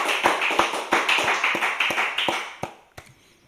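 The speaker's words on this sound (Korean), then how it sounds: "우리 하나님께 영광의 박수 올려드립니다" A church congregation at a Sunday afternoon worship service claps in praise: steady, evenly spaced claps over a dense wash of hands that thins out and ends in a few last isolated claps.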